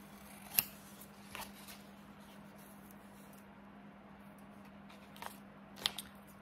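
Scissors snip paper for a collage in a few sharp, separate cuts spread over a quiet room, with a soft steady hum underneath.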